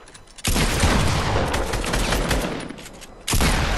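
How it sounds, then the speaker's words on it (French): Nearby gunfire in the Fortnite video game, a sudden loud, sustained burst of rapid shots lasting several seconds, then a brief pause before another burst starts. "Ça tire près de nous."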